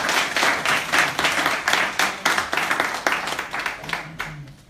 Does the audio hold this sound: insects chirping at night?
no